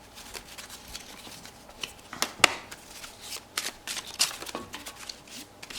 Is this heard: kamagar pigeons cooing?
no